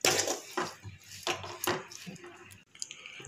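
Mint-coriander chutney being mixed with spice powder in a pan, with a few loud, close scrapes and knocks of a spoon against the metal and soft wet squishing in between, and no talk.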